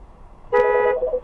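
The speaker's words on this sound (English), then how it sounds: "Bambi was shocked to see itself go on DDSTV, but then panicked when it got honked at" A car horn gives a single short honk on a road near a blind embankment, close and fairly loud against quiet road noise, lasting under half a second.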